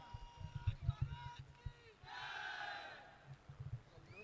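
Crowd at an Ikraa Big Bash 2023 cricket final cheers after a boundary four, a burst of massed voices and shouts under a commentator's talk that swells into a sustained roar around the middle before fading back.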